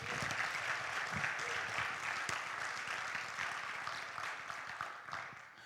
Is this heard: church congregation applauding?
yes